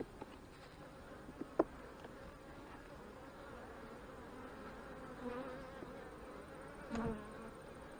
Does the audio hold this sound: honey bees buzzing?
yes